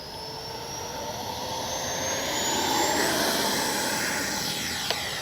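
A small RC L-39 jet with a 64mm electric ducted fan takes off from grass, its steady high-pitched whine swelling in the middle then holding, loud and close with no voices.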